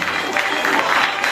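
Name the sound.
audience applause for a comedian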